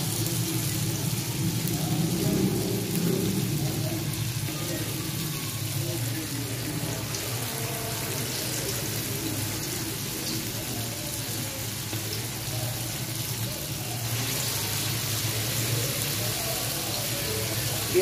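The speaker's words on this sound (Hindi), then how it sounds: "हम दही बड़े फ्राई करते हैं, ये देखें हम ये डाल रहे हैं दही बड़े" Dahi vada lentil dumplings sizzle in hot oil as a steady hiss, with a louder bubbling surge early on and a dense crackle that holds to the end.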